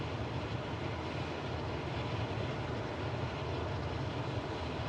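Airplane engine droning steadily in Microsoft Flight Simulator 2024 while flying over mountains, a continuous broadband rumble with no breaks or talk.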